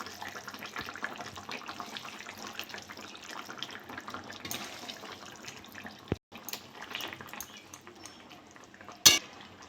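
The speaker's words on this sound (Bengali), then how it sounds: "মাছগুলো দিয়ে দেবো।" Small fish, kucho ilish and amadi, go into a pan of simmering potato and eggplant curry, giving a steady low bubbling hiss with light clatter and a sharp clink near the end; nobody speaks.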